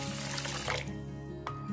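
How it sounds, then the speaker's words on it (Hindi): In a home kitchen, water runs from a tap into two cups of basmati rice for soaking, a soft, steady splashing that eases off partway through over a low background hum. "पानी डाल के 10 से 15 मिनट भिगो लेंगे।"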